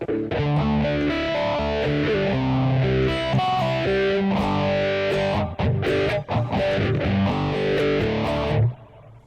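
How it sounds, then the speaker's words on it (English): Distorted high-gain electric guitar chords from a Blackstar ID:CORE V3 100 watt amp ring out with a sweeping stereo phaser effect swirling through the tone, steady and loud until it cuts off near the end. "You might be hearing that phaser now going in stereo in your ear."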